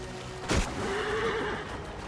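A horse in the video game Assassin's Creed Origins gives a short, loud neigh after a sudden thump, then the whinny trails off over quiet game ambience.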